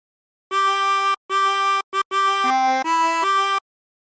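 Chromatic harmonica plays a short melodic phrase of the sea shanty Drunken Sailor, clear sustained reedy notes with brief breaks between them, close and solo with no talking.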